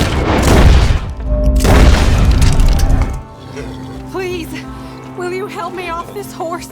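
Gunfire in the video game Red Dead Redemption 2, two heavy booming shots in quick succession that ring out loudly over the first seconds before giving way to quieter ambience and a voice talking.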